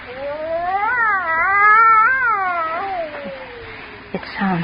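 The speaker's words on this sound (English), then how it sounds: "That cat." A cat lets out a long, loud, wavering yowl that rises and falls for a few seconds, followed by a brief knock and a short fainter cry.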